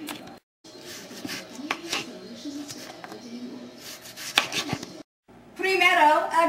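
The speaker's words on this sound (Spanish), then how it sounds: "corte la cebolla en pequeños pedacitos" A knife chops onion into small pieces on a board, sounding as quick irregular close taps with brief pauses, mixed with a voice talking in the background.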